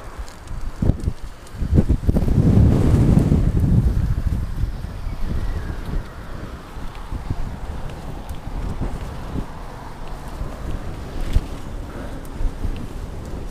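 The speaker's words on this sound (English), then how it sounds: "It's very windy." Strong wind buffets a cyclist riding through snow, roaring as broadband rumble that swells loudest early on and then settles into a steady gusting hiss with occasional bumps, no talking.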